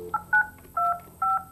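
Telephone keypad tones dialing an extension on an office phone: four crisp beeps with short gaps, steady and close, no talking.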